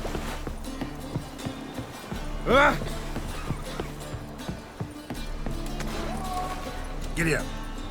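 Horse hooves clopping while riding in The Witcher 3, a rhythmic trotting beat under music and voices, with a couple of louder snorting or whinnying bursts.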